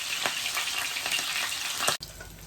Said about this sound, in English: You just have to be careful when you're frying fish.